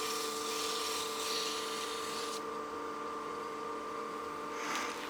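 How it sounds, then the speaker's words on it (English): A small power drill whines steadily up close, drilling about 1/4 inch into a wooden gnome ornament being turned, its pitch shifting briefly as the bit bites, with no one talking. "we'll drill that in just about 1/4 inch"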